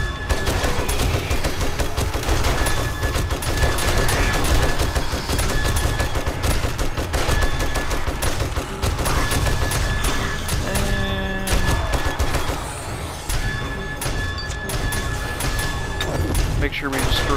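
SMG turrets in 7 Days to Die rattle off dense, continuous automatic fire during a day-42 horde, loud and relentless, with booms and crashes mixed in and voices talking over the din.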